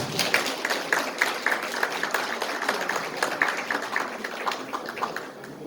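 Wedding guests applaud as the groom's father is welcomed up to speak, a steady dense patter of many hands clapping at moderate distance, fading slightly toward the end.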